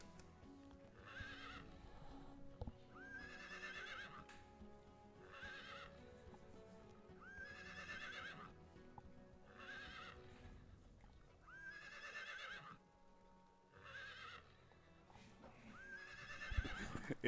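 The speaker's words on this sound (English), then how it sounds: "Horse wants to break free." A horse in Heroes of Might and Magic 3 repeatedly neighs and whinnies over a steady clip-clop of hooves, with the calls recurring about every two seconds at a fairly quiet level.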